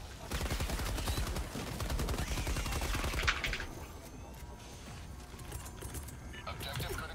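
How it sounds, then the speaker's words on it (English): Rapid bursts of plasma rifle fire in a Helldivers-style shooter, a dense string of repeated shots in the foreground that drops back to quieter game effects partway through. "Plasma rifle does that."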